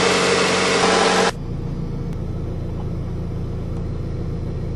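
A Honda Civic engine idles after a timing belt change, a steady low rumble close by; a loud broadband burst at the start cuts off abruptly, leaving the even engine hum running alone.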